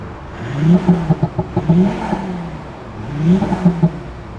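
Synthetic engine note from a German CarGraphic exhaust speaker system fitted to a Mercedes-Benz, loud and close: two rising revving swells with throttle blips, a pause between, no talking.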